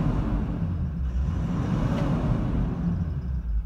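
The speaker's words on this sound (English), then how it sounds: "Give it a bit of a rev." A 2009 Toyota Landcruiser Troopcarrier engine running and being revved, a steady loud low rumble with a slight swell in the middle, close by and alone.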